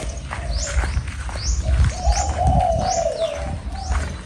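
A dove coos repeatedly in soft, low hooting phrases, with other birds chirping intermittently nearby against light background noise.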